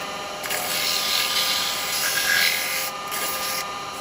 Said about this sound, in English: We'll just that top edge a little rub with sandpaper.